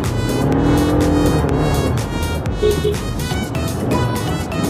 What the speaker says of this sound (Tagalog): Traffic na naman mga kailonggo.